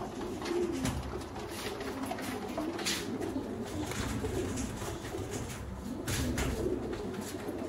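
Sialkoti pigeons coo repeatedly at close range, soft throaty rolling calls recurring in a loose rhythm over a light outdoor background, no talking.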